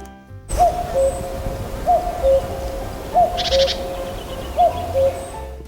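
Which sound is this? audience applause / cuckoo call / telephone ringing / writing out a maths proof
cuckoo call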